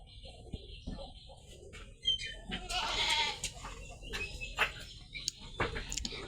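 A goat bleats a few times nearby in a village, its wavering cries mixed with scattered bird chirps and background noise.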